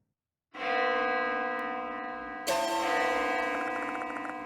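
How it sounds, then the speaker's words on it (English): A church bell rings in the horror game Death Mark, a single loud, resonant strike that hangs and decays, then a second, brighter strike about two seconds later that rings on alone with no voices. "This bell sound is..."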